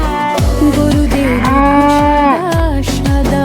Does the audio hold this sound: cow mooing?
yes